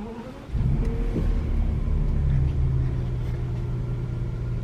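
A BMW car engine, just fitted with a new battery, cranks and fires straight up, then settles into a steady, close, loud idle rumble.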